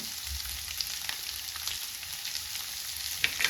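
Vegetables fry in oil in a pan for white sauce pasta, giving a continuous close crackling sizzle with a few sharper spatters near the end and no talking.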